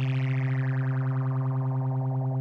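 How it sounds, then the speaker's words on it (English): A synth tone run through a phaser in Reason 5 with its rate turned up, giving a steady, buzzy harmonic drone whose swirling, whooshing sweep repeats quickly and evenly throughout. "if we crank that rate knob up on our phaser, now we're going to hear a lot of change"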